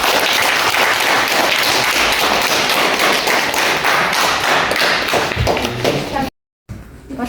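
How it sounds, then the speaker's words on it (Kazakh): An audience claps together at the opening of a book club event, a dense, steady burst of applause lasting several seconds before it cuts off abruptly. "Шапалақ ұрамыз"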